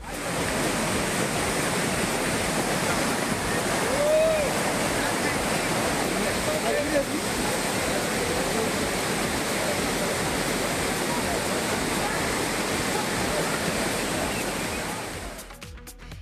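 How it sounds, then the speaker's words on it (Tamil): Courtallam waterfalls in flood after heavy rain on the Western Ghats: a steady, loud, broadband roar of rushing water that continues unbroken for the whole stretch and fades slightly at the very end. "மேற்கு தொடர்ச்சி மலையில் பெய்த தொடர் மழை காரணமாக குற்றால அருவிகளில் வெள்ளப்பெருக்கு ஏற்பட்டுள்ளது"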